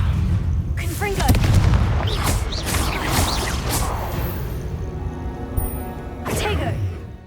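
In Hogwarts Legacy, a Confringo explosion spell goes off with several booming blasts and whooshes amid chaotic spell combat, with one more burst near the end.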